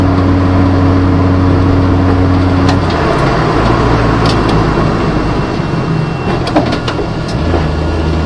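Inside an Audi S2 race car while driving, a loud steady engine and road roar fills the cabin, with the engine note shifting partway through and scattered sharp ticks of stones striking the underbody.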